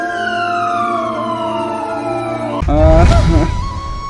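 A wailing ambulance siren in a roadside accident scene from a Bangla drama, its tone sweeping downward loudly and up close before cutting into an abrupt burst of noisier sound.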